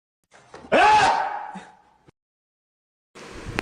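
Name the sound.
loud sneeze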